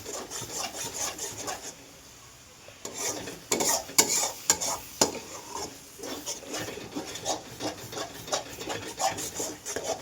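A spoon stirs tomato thokku in a hot pan, giving repeated scraping and rubbing strokes with a soft sizzle underneath, close and moderately loud, with a short quieter pause early on.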